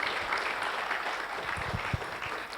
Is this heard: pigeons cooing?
no